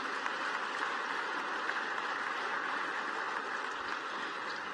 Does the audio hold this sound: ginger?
no